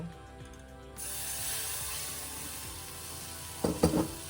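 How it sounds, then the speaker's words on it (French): A milk and cornstarch mixture is poured into melted butter in a pan, setting off a sudden hissing sizzle that holds steady, followed by a few short scraping clatters near the end. "mon beurre a fondu. Je viens ajouter mon mélange, lait, fécule de maïs"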